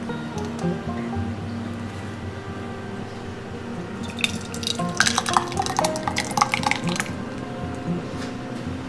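Huckleberry jam being scooped into a jar through a funnel, with soft wet dripping and squelching followed by clustered clinks of a utensil against glass and metal, close up over a steady low kitchen hum.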